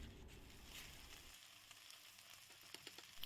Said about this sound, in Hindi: अच्छे से भिंडी को इन सब में हम भून लेंगे बढ़िया तरीके से